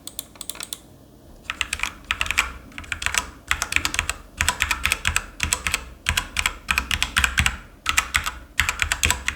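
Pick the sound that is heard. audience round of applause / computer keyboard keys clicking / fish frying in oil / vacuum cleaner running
computer keyboard keys clicking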